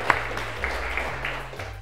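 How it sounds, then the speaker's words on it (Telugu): Scattered hand claps at a student quiz competition, soft and uneven, sitting over a steady low hum with no voices. "నేను బాగా కొడుతున్నా చప్పట్లు"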